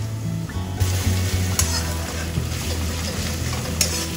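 Ginger-garlic paste frying with a bay leaf in a lightly oiled pan gives a steady, close sizzle, with soft stirring scrapes breaking through now and then.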